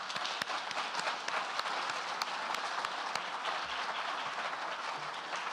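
Conference audience applause at an innovation management event: a steady, dense crowd clapping carrying on for several seconds, with sharper individual claps popping out of the even wash.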